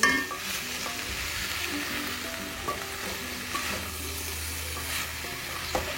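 Spices frying and being stirred in a pan while cooking biryani, a steady close sizzle with repeated scraping stir strokes and a few light utensil knocks, no voices.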